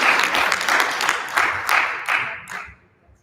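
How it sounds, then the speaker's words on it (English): A room full of people clapping for a governor at a public gathering, a loud dense round of applause pulsing unevenly, then thinning to a few last claps and fading into quiet. "give him a round of applause"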